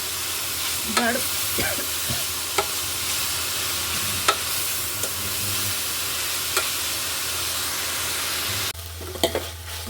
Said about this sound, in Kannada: ಪಾಲಕ್ ಸೊಪ್ಪು ಬಾಡಿದೆ ಇದು ಹಸಿ ವಾಸನೆ ಹೋಗೋವರೆಗೂ ಸ್ವಲ್ಪ ಎಣ್ಣೆಯಲ್ಲಿ ಫ್ರೈ ಮಾಡ್ಕೋಬೇಕು